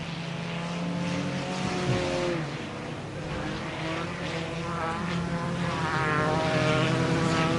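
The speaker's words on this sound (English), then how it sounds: "The 62 limping around the racetrack in that Sunfire." Sunfire race car limping around the track at an eve-of-destruction race, its engine droning and wavering in pitch, with other engines mixed in at moderate distance.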